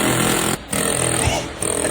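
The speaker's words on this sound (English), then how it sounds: "That's an air hammer." A pneumatic air hammer runs in loud continuous bursts in an automotive repair setting, cutting out briefly twice before restarting, harsh and close.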